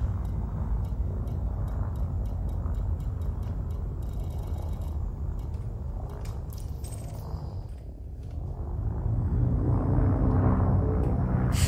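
Engine of an Asp ship in the Elite Dangerous video game, a continuous low droning hum with a pulsing, propeller-like throb, dipping briefly and then swelling louder, overlaid by faint ticking clicks.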